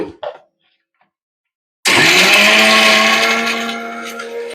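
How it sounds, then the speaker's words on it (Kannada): A mixer grinder kicks on loud and close after a brief silence, grinding masala spices for a village-style mutton sambar with a steady high whirring drone that gradually settles, following a short cough-like sound at the start. "ಆಗ್ಲೇ ನಾನು ತೋರ್ಸಿದ್ನಲ್ಲ ಎಲ್ಲಾ ಮಸಾಲೆನು ರುಬ್ಕೊಳ್ತಾ ಇದ್ದೀನಿ"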